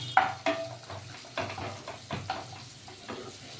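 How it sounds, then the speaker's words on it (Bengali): Mushrooms frying with salt in a pan while being stirred, close-up sizzling with repeated scraping and clinking of a utensil against the pan at irregular intervals. "একটু লবণ দিয়ে ভাজা ভাজা করে নেবো"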